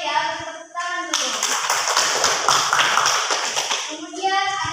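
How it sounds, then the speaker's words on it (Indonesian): A classroom of students clapping after a classmate's chemistry answer, a burst of many hands lasting a few seconds, with a voice speaking briefly before and after. "Tepuk tangan dulu."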